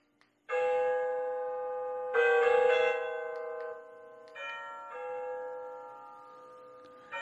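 An XREXS wall clock chimes, sounding several successive ringing tones, each sustaining and fading into the next, clear and close with no talking.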